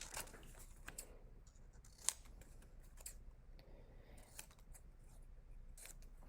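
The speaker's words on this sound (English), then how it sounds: "All right, cut those guys out." Scissors snip through white paper to cut out small monster teeth, a few quiet sparse cuts with light paper rustling in a calm room.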